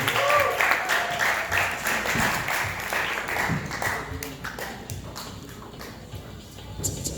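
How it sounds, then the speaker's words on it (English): A crowd applauds, a dense wash of clapping that gradually thins and fades toward the end. "Please give a round of applause for my dear friend, Jacob Gabriel SIVAN."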